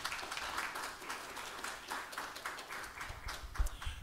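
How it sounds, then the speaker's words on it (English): Scattered audience applause greeting a speaker at a tech week event, modest and steady for about four seconds with a few louder claps near the end. "Let's give Horace a round of applause."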